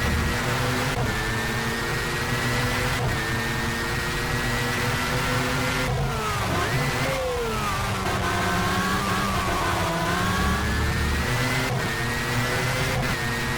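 Race car engine in the rFactor driving game, loud and continuous, holding high revs with pitch rising and falling through upshifts and downshifts and sharp shift breaks, no voices.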